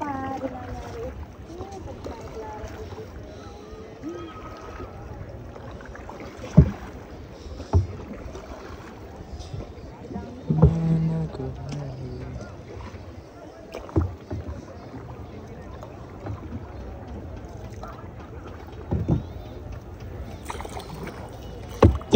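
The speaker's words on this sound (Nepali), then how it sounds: "आजभोलि त डुङ्गा नि घुमाउन जानिसकेछ नि" A small wooden boat rowed on water, with soft intermittent paddle knocks and splashes over a low wind rumble, fairly quiet and close, under occasional talk.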